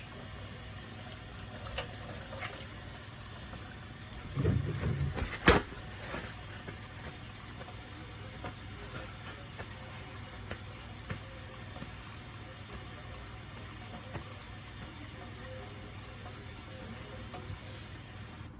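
Water runs steadily from a tap in a continuous hiss, with a brief clatter of handling midway and no talking.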